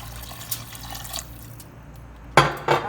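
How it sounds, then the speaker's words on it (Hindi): About a litre of water poured into a cooking pot holding minced beef for shami kabab: quiet kitchen background, then two short, bright splashing gushes near the end. "इसमें डालेंगे हम तकरीबन 1 लीटर पानी।"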